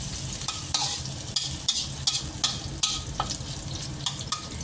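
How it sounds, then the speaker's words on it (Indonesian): Garlic fries in a hot pan for a Filipino-style home dish, a steady crackling sizzle broken by regular scraping clicks of a utensil stirring it, close and continuous with no talking. "Goreng sampai harum ya."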